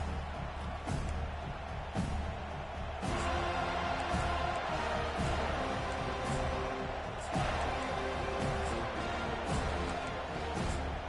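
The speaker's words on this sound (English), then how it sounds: "This crowd trying to show them what it's going to be like all day in this house." Stadium crowd noise from a Florida State home football game against Colorado in the NCAA 25 video game, a steady loud roar with swells and bursts of cheering throughout, occasional thuds.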